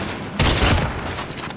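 Video game gunfire erupts in one sudden, loud burst of rapid shots, then tails off into a dense, noisy rumble.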